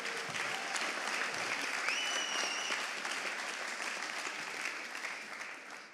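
Steady applause from an audience at an award ceremony, fairly faint and distant, a continuous wash of clapping that slowly tapers toward the end, with a brief tonal whistle-like sound partway through.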